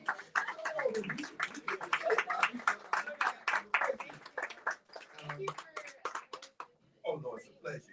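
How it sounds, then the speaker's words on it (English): Audience at a book discussion clapping for the author, a dense run of close handclaps lasting several seconds with people talking over it, then tapering off near the end. "let's give her a round of applause"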